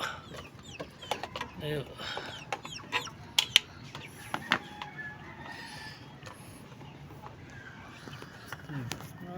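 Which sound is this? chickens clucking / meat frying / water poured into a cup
chickens clucking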